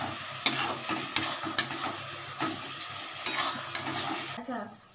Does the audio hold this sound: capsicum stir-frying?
yes